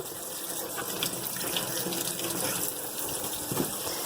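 A kitchen tap runs steadily as garden peppers are rinsed under it, a constant close splashing hiss of water with small shifts as the peppers move in the stream.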